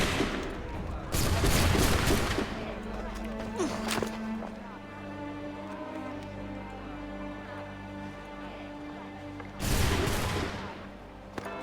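Musket volleys in Assassin's Creed III: loud crackling gunfire bursts at the start and again near the end, with a quieter stretch between where voices can be heard.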